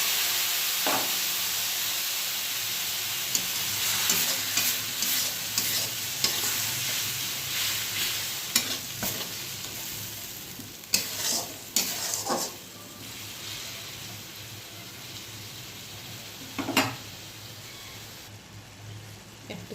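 Prepared masala hits fried onions in a pan on very low heat for bhindi masala, producing a continuous close sizzle broken by repeated scraping stirs and clatters of a spoon.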